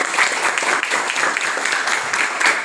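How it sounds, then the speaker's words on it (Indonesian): Students in a classroom give a short round of clapping, dense and even throughout. "Coba tepuk tangan dulu untuk si Venesia"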